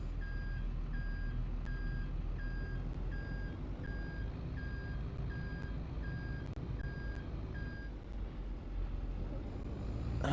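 Truck reversing beeps in Farming Simulator 25, a steady series of evenly spaced electronic tones over a loud continuous diesel engine rumble, the beeping stopping near the end.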